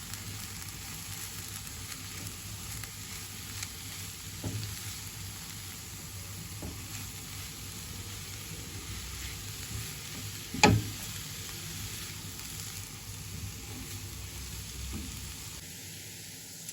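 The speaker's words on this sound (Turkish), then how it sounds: "Hepsini birlikte kavurmaya devam ediyorum." A soft, steady sizzle of onions sautéing in a pan for an onion and egg stew runs throughout, fairly quiet, with one brief louder clink partway through.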